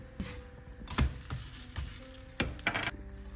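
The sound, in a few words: Kerala porotta frying in oil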